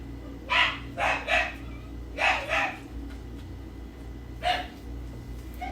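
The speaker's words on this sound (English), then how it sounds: "I got a very rude dog downstairs, not mine, my neighbor's." A neighbour's dog barks from downstairs in a run of muffled, moderately loud woofs, three quick barks, then two more, then a single one, over a steady low room hum with no talking.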